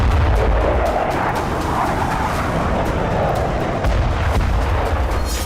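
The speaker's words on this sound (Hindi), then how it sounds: "रूसी फाइटर प्लेन से भीषण हमले किए जा रहे हैं।" Russian fighter-plane air strikes in Kursk produce a continuous heavy roar of distant blasts and rumbling, with sharp cracks scattered through the loud, dense noise.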